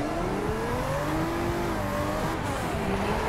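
A Koenigsegg supercar in the racing game Forza Horizon 2 drives through a speed trap, its engine producing a continuous loud rising drone with shifting pitch throughout.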